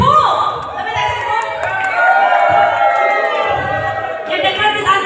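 Crowd cheering and chattering at a finish-line event for a loop ride in Surigao, a steady busy roar of many voices with scattered shouts and claps, continuous and fairly loud throughout.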